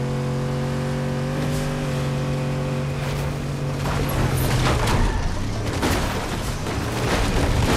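Car engine in the Fortnite battle royale video game, a steady droning hum with rising and falling revs, loud and continuous, joined by crashes and bangs toward the end.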